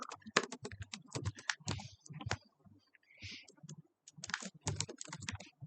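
Rapid bursts of computer keyboard keystrokes while code is typed, close and fairly loud, arriving in irregular runs with short pauses and no talking.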